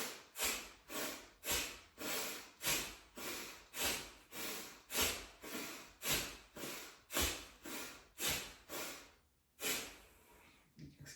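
Forceful Kapalabhati yoga breathing: a rapid series of about twenty sharp, snorting nasal exhalations at a steady rhythm, each a close, breathy burst, ending with a brief pause and a longer breath.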